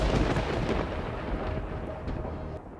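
Rolling thunder from an Arizona monsoon storm, a broad low rumble that stays loud and sustained before easing off near the end, with no voices.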